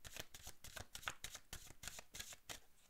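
Oracle colour cards shuffled by hand in a quick run of about a dozen crisp riffling bursts, close and fairly quiet, with no talking.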